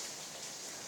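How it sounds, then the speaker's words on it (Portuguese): Heavy rain pours down in a dense, constant roar of broadband hiss that stays steady and loud for the whole moment, with no voices. "Então, gente, olha a chuva que forte."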